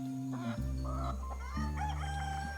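A rooster crows on a farm in the video game I Am Dead, one long, loud, close cock-a-doodle-doo call standing alone over soft background ambience.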